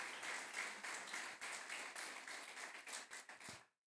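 A church congregation applauds during a Wednesday worship service, brisk dense clapping that carries evenly and then cuts off abruptly near the end.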